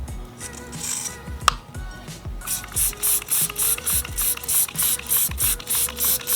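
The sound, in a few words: spraying wheel cleaner onto microfiber cloth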